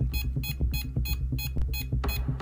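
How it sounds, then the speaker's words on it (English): An electronic device beeps beside a box, sending out a regular series of short, sharp bleeps at about two per second, fairly quiet over a low background hum, with one louder click near the end. "I need to know why this thing is beeping when it's next to the box"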